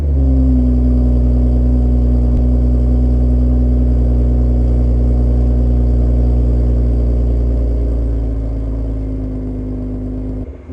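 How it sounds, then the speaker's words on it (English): BMW M140i cold startup: the engine fires and settles into a loud, deep, steady high idle with a strong low drone, easing slightly toward the end, close and with no talking. "on every startup, whether the car's warm or whether it's cold, it always has like a cold startup sound."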